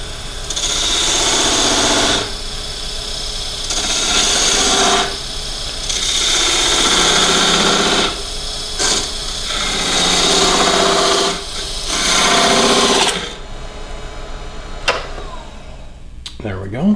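Wood spins on a lathe while a skew chisel cuts into it, loud scraping and rasping in repeated passes of a few seconds each over a steady motor hum, ending in quieter running.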